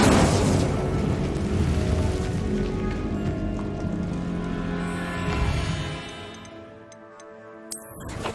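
An Incendio fire spell cast in Hogwarts Legacy brings a loud whooshing burst of flame. Ringing, tonal magical layers sustain over it and then fade over several seconds, and a small click comes near the end.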